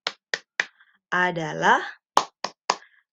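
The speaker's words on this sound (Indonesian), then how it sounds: "sebelum belajar kita tepuk dulu ya" Children's clapping chant in an Indonesian classroom: three sharp hand claps, a sung spoken phrase, then three more claps in a steady rhythm, close and clear.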